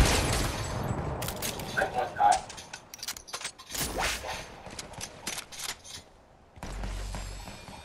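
Sharp, scattered bursts of gunfire and cracking impacts in the Fortnite video game, loud and irregular, with short quiet gaps and a voice talking between shots.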